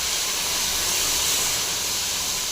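Ground garlic frying in hot oil for a tamarind curry, a loud, dense, continuous hiss holding steady throughout with no pauses.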